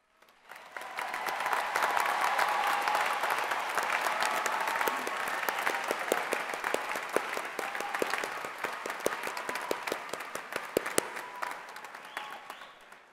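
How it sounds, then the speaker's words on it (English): Long, steady applause from a large audience at a California State University, Fresno commencement honoring students, rising quickly and holding dense crowd clapping with a few sharp individual claps standing out before it thins at the end. "Please stand and let us give you a round of applause."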